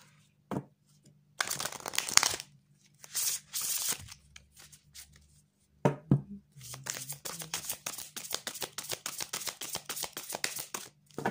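Tarot cards are shuffled by hand up close in several separate bursts of papery riffling, ending in a quick run of rapid flicks, with no talking.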